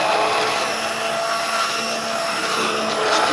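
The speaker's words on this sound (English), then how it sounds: "the immersion blender really comes in handy for stuff like this" Immersion blender whirring steadily through hot tomato soup, a loud continuous motor drone with a slightly shifting pitch as it churns, close up and with no talking.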